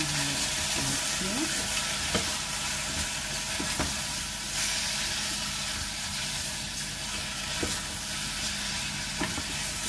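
Beef adobo with pineapple and egg being stirred in a pan: a steady, loud sizzle and hiss of frying, with occasional scrapes and clinks of a utensil against the pan and no talking.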